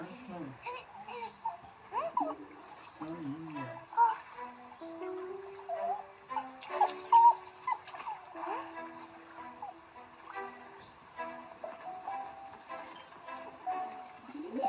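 A small dog whimpers and yips repeatedly in high, wavering cries, close by, while a person speaks soothingly over it throughout.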